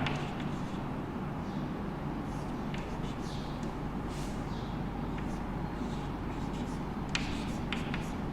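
Marker or chalk scratching out symbols on a board during a basic maths lesson, faint intermittent strokes over a constant low background hum, with no talking.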